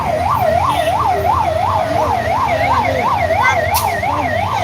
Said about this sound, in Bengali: আমরা আপনাদেরকে দেখানোর চেষ্টা করছি এখানে আসলে অ্যাম্বুলেন্স